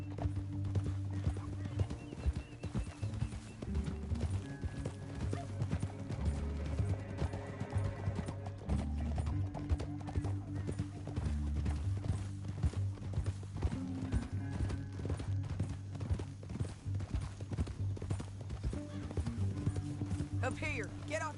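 Horse hooves clip-clopping while riding in the video game Red Dead Redemption 2, a steady rhythmic trot under continuous talk and a low musical score.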